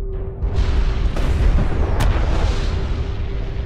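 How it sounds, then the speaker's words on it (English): Anti-air turret fire and explosions in the strategy game Homeworld: Deserts of Kharak, a loud continuous rumbling barrage of booms with a sharp crack partway through, no voices. "Anti-air turret under fire."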